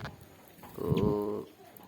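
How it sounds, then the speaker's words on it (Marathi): A single close bird call around a house, a low soft cooing note lasting about half a second, stands out against a quiet background. "आपल्या घराच्या अवतीभोवती हे पक्षी जे आहेत ते येतात"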